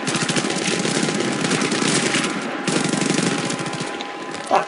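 Sustained automatic gunfire in Battlefield 3, loud and dense rapid shots rattling almost without pause, with a brief dip midway before the firing resumes and a final thud at the end.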